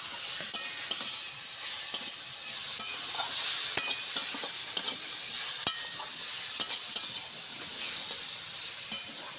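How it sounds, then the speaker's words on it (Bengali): Jukti flowers and potato fry in oil in a pan with a steady, bright sizzling hiss, punctuated by regular sharp taps and scrapes of a spatula stirring the pan, close and continuous. "যুক্তি ফুল আর আলুটা দেখুন আমার খুব সুন্দরভাবে ভেজে নিয়েছি।"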